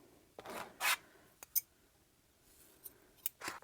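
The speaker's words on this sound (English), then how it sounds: "we're going to go ahead and cut our yarn" Scissors snipping through yarn while crocheting a mini apron, a few sharp, quiet cuts and rustles spaced apart against near silence.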